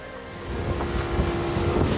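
A motorboat (lancha) crosses the sea from Antón Lizardo beach near Veracruz toward Isla de Enmedio, with a steady engine drone, wind buffeting and the slap of waves, close and continuous throughout.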